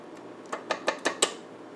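A spoon clinks against a bowl while pumpkin bread batter is stirred, giving five sharp, evenly spaced taps close by with no talking.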